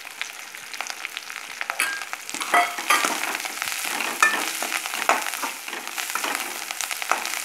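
Drumstick flowers sauté in a pan for a poriyal, crackling and sizzling continuously while a spoon stirs and scrapes through them in irregular strokes, close up.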